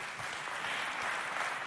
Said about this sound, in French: Applaudissez quand même une fois pour vous.